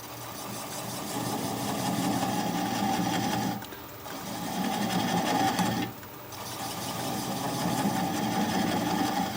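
A wood lathe turning a block of Japanese quilted maple runs at a steady whirring hum, with two brief dips where the speed drops as it is slowed from about 600 to roughly 300 rpm.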